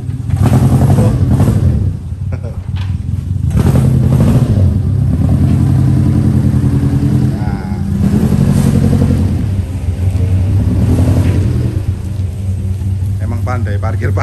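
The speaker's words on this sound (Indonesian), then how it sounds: "pakai knalpot HKS dan suaranya kayak Jetstar ini" A 2004 Mazda Espass pickup fitted with an HKS exhaust runs loud and close, its engine rumble swelling and easing through steady revs.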